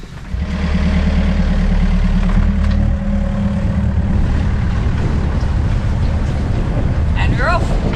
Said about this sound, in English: Nice breeze to sail.